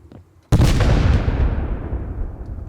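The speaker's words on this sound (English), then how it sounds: "I still have plenty of pipe bombs to toss at it" A single loud pipe bomb blast in the survival game Rust during a base raid, a sudden sharp boom after near quiet that rolls off into a long, rumbling decay.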